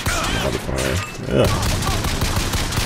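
Gunfire from the first-person shooter video game Bioshock Infinite crackles in dense, continuous bursts, loud and close, mixed with game noise while someone talks over it.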